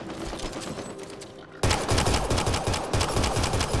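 Rapid pistol and shotgun fire rattles through a Mass Effect Andromeda multiplayer firefight, a continuous volley that turns suddenly louder and denser partway through, with no talk over it.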